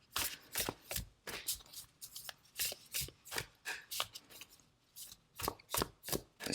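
Tarot cards being shuffled and drawn by hand, a close, quiet series of rhythmic riffling and slapping bursts repeating about every half second.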